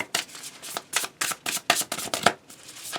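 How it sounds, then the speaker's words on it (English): A deck of tarot-style reading cards being shuffled by hand, a quick run of about ten crisp riffling bursts close up, with no one speaking. "This deck changes with the weather, I swear. Sometimes it's difficult to shuffle and other times it's great."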